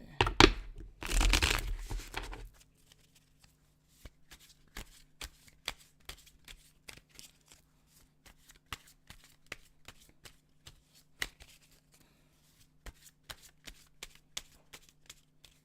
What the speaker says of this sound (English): Give this one more shuffle